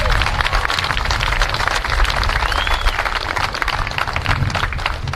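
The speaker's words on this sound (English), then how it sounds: "please give Paul a round of applause" An outdoor crowd at the Key West 200th celebration flag ceremony claps for Paul Menta, a continuous dense patter over low background rumble.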